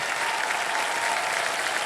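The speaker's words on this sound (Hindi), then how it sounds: "एक बार जोरदार तालियां बज जाएं हर्षिल के लिए" A studio audience on the KBC quiz show claps in a steady, continuous round of applause, fairly loud and even throughout with no voices over it.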